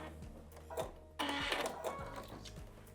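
Domestic sewing machine running a short back stitch on a quilted coat, a rapid mechanical chatter that starts, pauses briefly and resumes, close and fairly loud with no talking.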